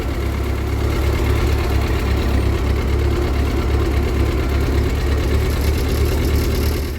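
A 1952 Ford 8N tractor engine running in first gear, a loud, steady low chugging with fast regular firing pulses that carries unbroken from start to finish.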